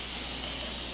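A voice imitates the sizzle of a hot fajita pan of chicken and steak at a restaurant: one loud, close, steady hiss lasting about a second, with no other sound.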